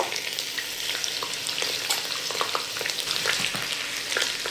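Minced onion hits meat already frying in a pan, setting off a dense, continuous sizzle and crackle with scattered sharp pops and light stirring clicks, no voices.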